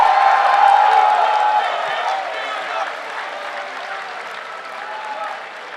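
A large crowd at a Super Smash Bros. Melee esports event, Get on My Level X, applauds and cheers, loud and dense at first and then gradually fading, with a voice briefly heard over it.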